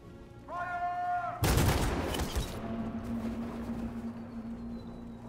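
Loud burst of gunfire volley from a crowd standoff in the video game Detroit: Become Human, a dense crackling barrage after a shouted order, trailing into echoing noise and a sustained low tone, with voices around it.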